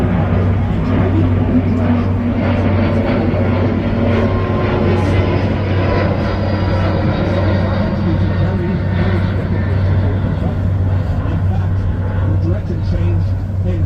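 Steady low engine roar of a Delta Airlines airliner taking off in Boston, broad and continuous, with a faint higher whine above, heard from the ground at some distance.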